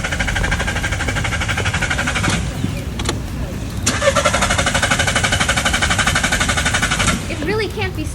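An old car's engine cranks over and over without catching, a steady churning whir that runs almost the whole time with brief breaks and a restart partway through.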